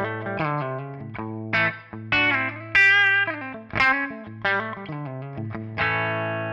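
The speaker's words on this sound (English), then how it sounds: "I'm playing my Gibson Les Paul Standard 60s." A Gibson Les Paul Standard 60s on the bridge pickup runs through a Kemper amp's clean channel, playing a series of ringing chords and single notes with sustained decays and a touch of chorus and effects.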